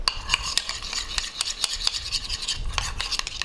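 Smeary wax and paint being stirred together in a bowl, a rapid, repeated scraping and rubbing of the mix, close and alone.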